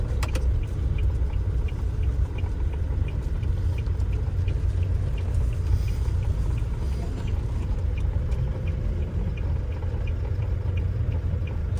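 Engine of a 2026 Toyota Hilux Tamaraw Dropside pickup driven in manual mode: a steady, loud low rumble with road and cabin noise running without a break, and no talk over it.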